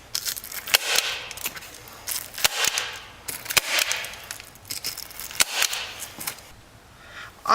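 A stapler drives staples into a round-top vinyl cover, producing a series of sharp, snappy clicks at uneven intervals, fairly close and crisp over a quiet background.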